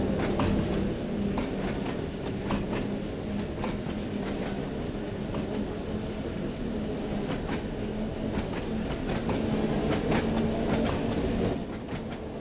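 Class 166 train running on the Isle of Wight line in Train Sim World 2, a steady low rumble of the carriage interior with a faint hum and repeated rhythmic clickety-clack of wheels over rail joints, continuous and moderately loud.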